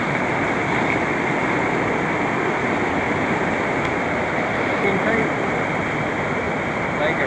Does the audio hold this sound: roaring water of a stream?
yes